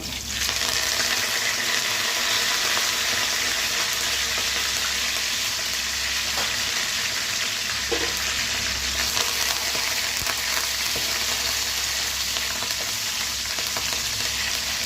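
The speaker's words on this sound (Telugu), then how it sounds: "ఉల్లిపాయలు బాగా వేగాలన్నమాట ఆయిల్లోనే బాగా ఫ్రై అవ్వాలి" Constant bright crackle and hiss of onions frying in hot oil for tomato dal, continuing evenly throughout with a faint low rumble beneath.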